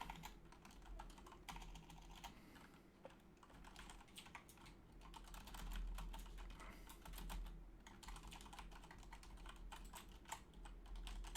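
Quiet, quick keystrokes patter on a computer keyboard in uneven bursts, close by, with no voices.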